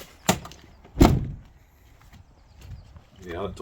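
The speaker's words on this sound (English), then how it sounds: "Yeah, that door shut properly that time." A Land Rover Defender 90 door slams twice: a solid close thud, then a heavier, fuller slam under a second, followed by faint movement and a low rumble.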